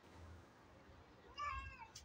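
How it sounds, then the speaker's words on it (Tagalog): A single cat gives one short, faint meow while a group of about ten cats is being fed, set against a quiet background. "Bilangin natin ang kanyang pinapakain na pusa."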